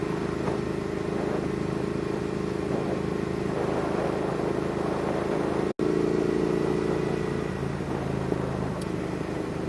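Triumph Thruxton R motorcycle engine heard from the rider's position, a steady droning hum running throughout with wind rush, and a brief dropout near the middle.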